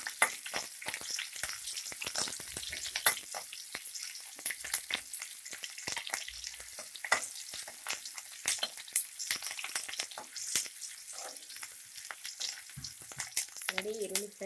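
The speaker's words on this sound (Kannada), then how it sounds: "ಈಗ ಈರುಳ್ಳಿ ಮತ್ತು ಕರಿಬೇವು ಹಾಕ್ತಾ ಇದ್ದೀನಿ. ಸ್ವಲ್ಪ ಫ್ರೈ ಮಾಡ್ಕೊಳ್ಳಿ." Onion and curry leaves fry in hot oil for a fish sambar, giving a steady close sizzle with scattered crackles and stirring scrapes throughout, with no talking.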